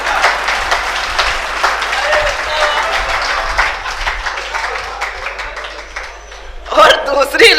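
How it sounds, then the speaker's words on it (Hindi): An audience at a Hindi hasya kavi sammelan, a comic poetry gathering, breaks into sustained clapping that holds steady, dips briefly, then swells again near the end with some laughter mixed in. "तालियां अब बजाइएगा"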